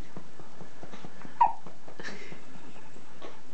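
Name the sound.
baby hiccups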